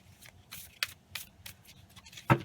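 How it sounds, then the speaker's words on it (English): A tarot card deck being shuffled by hand: a few quick, crisp riffling bursts and snaps spaced irregularly, close and clear, ending with a sharper slap of cards. "Let's give these a shuffle."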